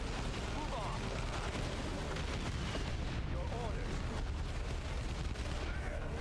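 Artillery fire in a video game, a dense continuous rumble of distant booms and gunfire filling the whole stretch at a steady, moderate level, with a voice talking over the battle noise.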